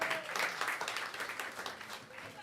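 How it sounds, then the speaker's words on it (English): An audience at a comedy show applauds the MC, a sustained burst of many hands clapping fairly close, with faint voices mixed under the clapping. "I would like you to give the MC a round of applause"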